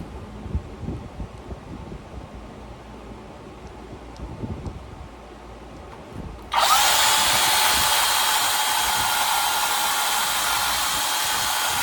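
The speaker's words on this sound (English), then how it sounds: "I don't want to drill this one out too much" A power drill starts abruptly partway through and runs loud and steady to the end, a high whining buzz after a few seconds of quiet handling noises.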